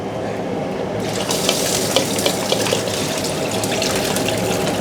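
Steady running water splashes into a sink, starting a second in and continuing with small splashy bursts as clams are rinsed underneath.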